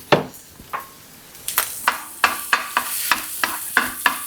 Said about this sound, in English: I'm just going to go ahead and drop this garlic in here and brown it up a little bit